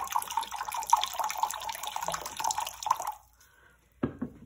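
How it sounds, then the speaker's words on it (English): Oil poured into a jar: a close, steady liquid trickle lasting about three seconds, then near silence and one short splash or drip at the end. "So the oil goes into the jar."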